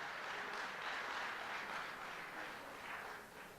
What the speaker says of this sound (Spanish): Espero que no lo estén aplaudiendo de aprobación